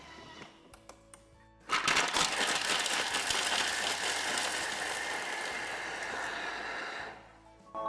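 A Thermomix runs at speed 9 chopping chocolate, a loud steady whirring grind that starts abruptly, holds for about five seconds and then winds down, heard close with a few small clicks before it starts.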